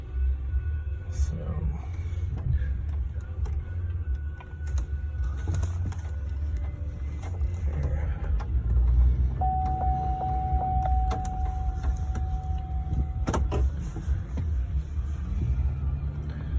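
2009 Chevy Silverado pickup with a 5.3 engine rolling down a street, a steady low rumble of engine and road noise from inside the cab, with a brief whine and occasional clicks and bumps.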